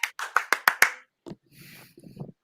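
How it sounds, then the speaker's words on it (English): A few quick, close hand claps in a small group, about six sharp claps in a row, then a pause and some faint shuffling noise. "A round of applause for Soju."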